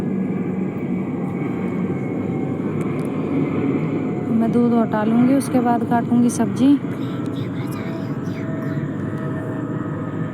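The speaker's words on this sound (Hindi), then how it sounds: "आपको प्लेन की आवाज़ आ रही होगी, इसको इग्नोर करना" An airplane passes over a rooftop early in the morning, filling the background with a continuous broad roar throughout, while someone talks over it in the foreground.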